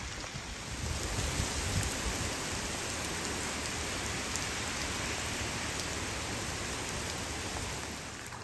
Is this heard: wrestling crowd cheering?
no